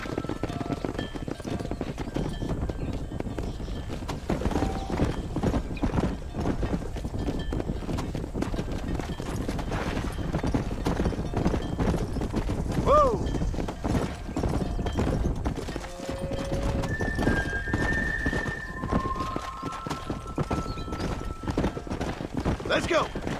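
Horses in the Red Dead Redemption video game gallop with dense, continuous hoofbeats, with occasional whinnies and neighs rising over the running, while a voice calls out now and then.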